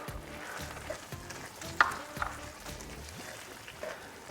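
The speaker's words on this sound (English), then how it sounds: "You want to stir that in completely." A spoon stirs crumbled plain feta into shakshuka sizzling in a pan, soft rhythmic scraping over a steady low frying hiss with one sharper clink midway, all close and moderately quiet.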